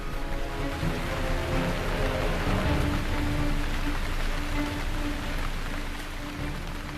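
Heavy rain pours down in a storm downpour, a dense, loud, steady hiss of countless drops striking surfaces, continuous throughout and easing slightly near the end.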